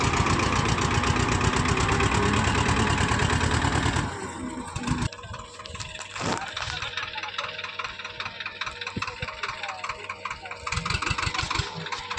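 A farm tractor engine runs close by with a loud, rapid chugging idle that then drops to a lower, rougher running note with occasional knocks and clatter; faint voices are heard in the background.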